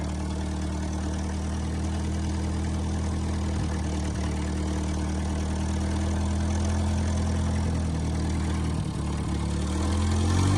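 An Allis-Chalmers FT 20 24 forklift engine runs steadily with its throttle unhooked, a loud, close, rough low rumble with an even idle that swells slightly near the end.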